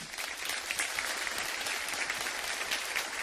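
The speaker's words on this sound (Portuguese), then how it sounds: "Salva de palmas" A church congregation breaks into sustained, dense applause, a steady roar of many hands clapping without pause.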